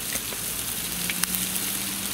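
Onions and garlic fry in a Dutch oven, giving a steady, even sizzle with faint crackles and one small clink near the middle.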